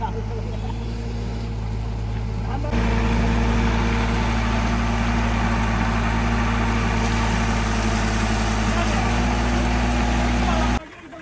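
A diesel vehicle engine runs at a village pond cleanup, a steady, close, loud low drone that swells slightly after a few seconds and then cuts off abruptly near the end.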